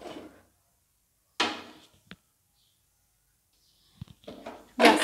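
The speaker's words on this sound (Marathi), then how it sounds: "गॅसवर तवा ठेवला आहे" A flat iron griddle (tawa) set onto a gas stove, heard as a few separate sharp clunks and knocks with quiet gaps between them and a louder rattle at the end.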